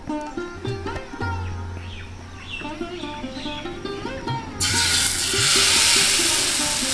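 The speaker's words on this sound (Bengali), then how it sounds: "এবার সরার ভেতরে এক হাতা করে দেবে আর কাকিমা ভাজবে" Rice flour batter for chitoi pitha sizzling and frying in a clay pot over a village fire, a steady hiss that swells louder near the end, with birds chirping and occasional clinks.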